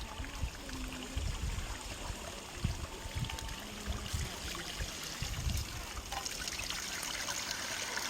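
Water trickling and pouring outdoors while black gram lentils are washed by hand, a continuous close running-water sound with light splashes and occasional thumps.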